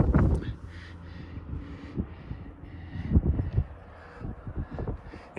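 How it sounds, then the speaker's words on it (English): Strong wind buffeting a microphone outdoors at a dealer auction lot, giving uneven low rumbling gusts that swell and fade throughout, loud and close with no talk. "the wind is blowing so hard I barely can't even stand up"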